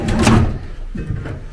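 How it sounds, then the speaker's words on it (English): A soft-closing drawer in a hotel room glides shut with a muffled thud followed by a quieter cushioned settle, close and brief. "Soft closing drawers, very nice."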